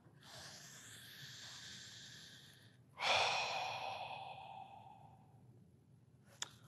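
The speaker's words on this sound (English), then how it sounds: "And a resting breath." A single long resting breath taken during a martial arts breathing exercise, a slow audible exhale that starts strongly and fades over a few seconds, heard close and alone after a softer breath.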